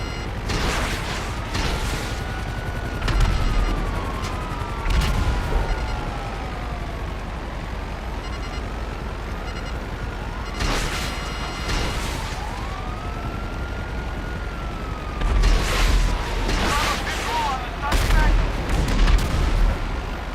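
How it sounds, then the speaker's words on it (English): Aircraft missiles fire in GTA Online, with bursts of explosive blasts and gunfire against sweeping siren-like wails that rise and fall, loud and repeated across the stretch. "Free aiming those missiles now."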